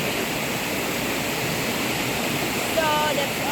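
The Hau Tong Kai waterfall in Hong Kong pours as a steady, dense roar of rushing water with no pauses, and a few faint thin whistling tones appear near the end.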